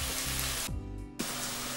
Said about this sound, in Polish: Smażymy, aż się mocno zrumieni, od czasu do czasu mieszając.